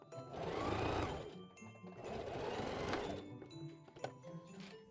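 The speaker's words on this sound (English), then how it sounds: "I'm going to stitch straight down both sides of the case through all the layers" Sewing machine stitching straight side seams through all the layers of a fabric tablet sleeve, running in two long sustained bursts with a brief pause between, fairly close, steady and alone with no talk.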